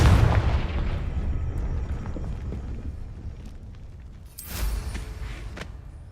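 Rumbling explosion from the Confringo fire spell in Hogwarts Legacy: a heavy boom at the start that fades into a long low roar, then a second burst of crackling blast noise near the end, loud and close.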